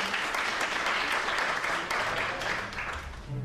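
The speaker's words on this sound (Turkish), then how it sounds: "Önce o zaman kocaman bir alkış alalım." Audience applause at a short film festival awards ceremony, a dense steady clapping from a crowd that fills the whole moment with no voices over it.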